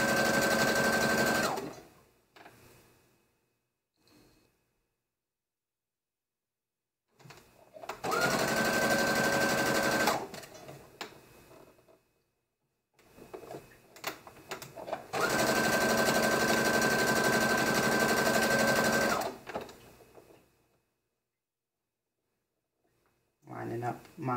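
Sewing machine stitching the side seams of a maxi dress, loud fast whirring runs of several seconds each, separated by pauses with fabric handling and occasional speech.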